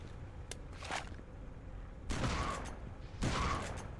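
Bursts of gunfire while shooting enemies in the video game Geist: a brief early shot, then two loud, dense volleys of rapid shots separated by quieter gaps, with no talk.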